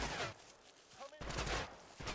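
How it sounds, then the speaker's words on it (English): Gunfire in a video game, dense bursts of rapid shots in two volleys close together, loud and crackling with a brief quieter gap between. "oh, those are gunshots."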